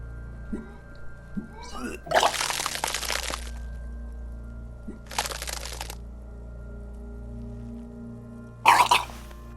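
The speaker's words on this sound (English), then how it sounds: "Your body curls and pushes it out, burst by burst, until a pool of vomit lies under your feet" Retching bursts from a character vomiting in the video game Disco Elysium, three wet, loud bursts of heaving over a low ambient drone, the last one short and sharp.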